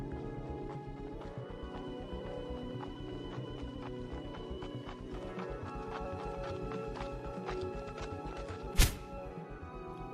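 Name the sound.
horse hooves as rider sets off, cartoon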